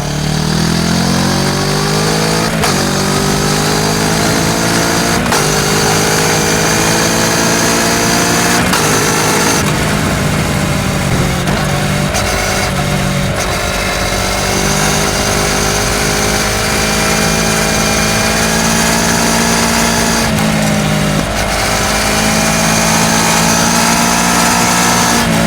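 Kawasaki Ninja 650 motorcycle with an Akrapovič exhaust accelerating out of town, engine note climbing steadily through several gears with brief dips at each shift, loud and close throughout with no talk.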